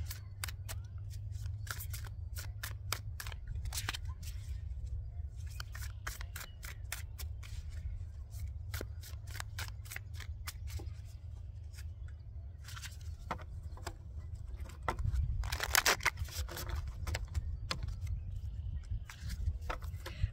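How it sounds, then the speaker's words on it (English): Tarot cards shuffled by hand in quick, crisp riffles and flicks over about twenty seconds, close and fairly quiet, with a louder burst of shuffling toward the end. "that's a sign that we're doing 2 shuffles, and that was the second one"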